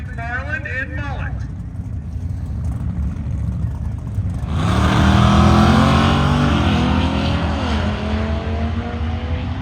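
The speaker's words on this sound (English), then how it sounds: "a pair of 6-second capable, 200-mile-an-hour capable hot rods" A pair of 6-second, 200-mph-capable drag racing hot rods, one a 1968 first-generation Camaro, sit at Byron Illinois Dragway with engines rumbling. The engines swell into a loud, sustained roar midway as the cars launch, with voices in the background.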